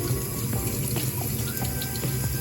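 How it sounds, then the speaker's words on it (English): Tap water runs steadily over a loaf of stale bread, a constant close splashing rush with small irregular drips and spatters and no voices. "Rinse it with water"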